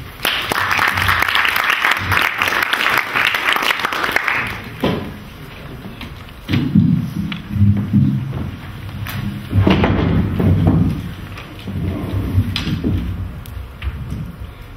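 Audience at the LSE applauding to welcome speakers for an evening talk on economic development in the Middle East: dense, steady clapping for about five seconds, then fading into scattered claps, shuffling and low murmurs.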